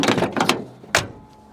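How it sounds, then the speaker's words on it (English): An old Corvette's door swings and shuts with a solid thunk, following a few rattling knocks from handling the car, loud and close with no talk. "that door actually closes real nice"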